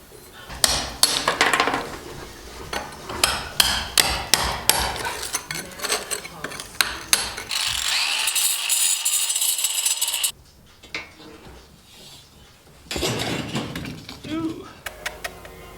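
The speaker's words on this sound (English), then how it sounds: "Going to be using one of these chisels." A chisel works rotten wooden floor joists, sharp repeated hammer-struck metallic taps in irregular bursts close by, with a sustained grinding hiss midway and a quiet gap before the strikes resume.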